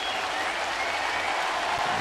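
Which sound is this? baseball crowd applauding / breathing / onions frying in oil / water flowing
baseball crowd applauding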